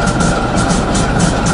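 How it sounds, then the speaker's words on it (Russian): Compressed air escapes from a broken valve on a diesel locomotive, a loud, continuous, rough rushing hiss with a low rumbling undertone, steady throughout. "там какой-то клапан сорвало, и теперь воздух выходит с таким звуком"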